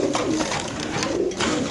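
Racer pigeons in a cage give soft, continuous cooing at close range, filling the short moment without any talk.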